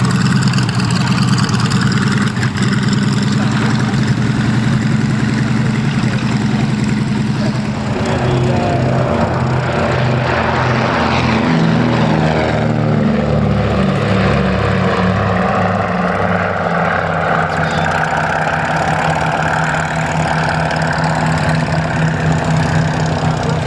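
A propeller aircraft climbing out at an airshow at Shuttleworth, its engine a loud, continuous drone with a sweeping pitch as it passes close by for over twenty seconds, no talk.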